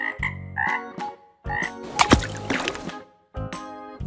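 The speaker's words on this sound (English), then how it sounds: "Frog." A frog croaks in several loud, close, throaty bursts separated by brief pauses, with one rough, rattling stretch in the middle and nobody talking.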